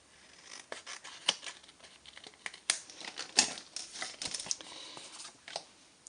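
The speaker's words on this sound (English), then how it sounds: "to cut out your designer series paper" Scissors snip through designer series paper while cutting out a card insert from a template for a twist and pop card, a run of close, crisp cutting strokes with irregular pauses and no talking.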